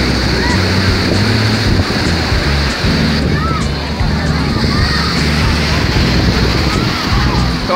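Sea surf rolls and washes at Praia do Atalaia beach, a continuous rush of waves with wind buffeting the microphone, steady and fairly loud.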